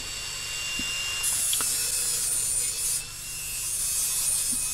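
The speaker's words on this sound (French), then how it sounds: "je meule un peu les angles pour faire quelque chose de propre" An angle grinder works the corners of cut metal plates for a workbench, a steady high whine with a few brief scrapes and a short dip in pitch midway, heard close with no talk.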